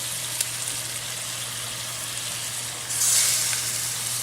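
Meat and tomato paste for a traditional Neapolitan ragu sizzle in a pan: a steady, close crackling hiss that swells louder partway through, with faint stirring taps and no talking.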